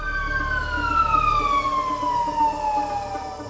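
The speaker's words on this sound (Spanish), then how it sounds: "Veía que había muchas ambulancias" An emergency siren wails past in Hermosillo, Mexico, during a fire, its falling tone sweeping down loudly over a low traffic rumble, with no voices.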